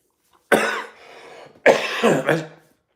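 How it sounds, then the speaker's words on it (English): Two close, rough coughs a second apart, the second a quick double burst, with no talking around them. "I don't know what's going on with this stupid cough"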